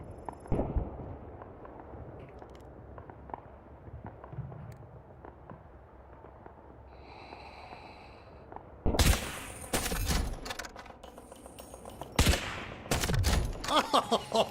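Gunfire in the Delta Force video game: a quiet stretch of faint ambience gives way to loud, sharp bursts of shots around the middle and again near the end, clustered rapid cracks with no voices.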